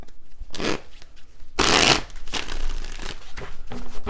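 Tarot cards being shuffled in several quick riffles, with a louder, fuller burst in the middle; close and crisp, no voices.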